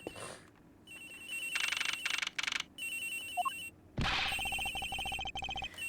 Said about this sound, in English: The ring is coming from somewhere in here